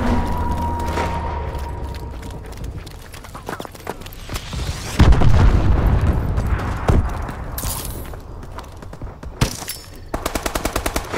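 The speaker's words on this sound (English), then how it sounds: "Enemy missile strikes!" Missile strike explosions in Call of Duty: Advanced Warfare, rapid rattling gunfire giving way to heavy booming blasts and debris, loud and dense, with sharp repeated bursts again toward the end.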